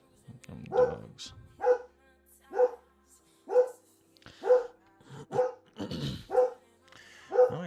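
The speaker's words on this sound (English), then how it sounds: "the dogs are fucking going nuts" Dogs bark in a steady series of about nine sharp barks spaced roughly a second apart, fairly close and loud, with quiet gaps between and a brief growly patch near the middle.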